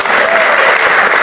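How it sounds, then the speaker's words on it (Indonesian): A congregation at a church youth sermon breaks into loud, close, continuous clapping, a thick, even burst of applause from the whole room. "Puji Tuhan, tepuk tangan semua bagi kita."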